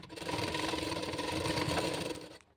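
A sewing machine stitches a lined blouse in a steady, close, continuous whirring run that starts abruptly and cuts off near the end, with no talking.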